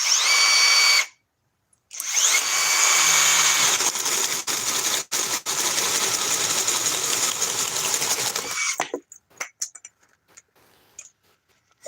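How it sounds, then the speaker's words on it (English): A handheld power drill whirs loudly up close in long runs, with short pauses between them. At the end it breaks into quick stop-start bursts and clicks. "I don't know how to set this drill up."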